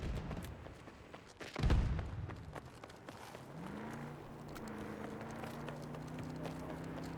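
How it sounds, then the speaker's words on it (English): Footsteps in the video game Battlefield 2042, soft rhythmic steps with a louder thump near the start, against a steady engine-like hum that rises and settles underneath. "I hear more footsteps"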